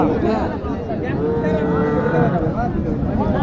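Cattle moo among a bustling crowd at a Bengali livestock market for bulls in Naogaon. Low, drawn-out lowing rises through steady, loud background chatter and voices.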